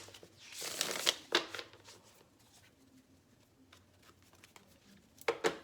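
Tarot cards being shuffled by hand, quiet riffling and patting bursts, with a cluster near the start and another at the end, close and soft.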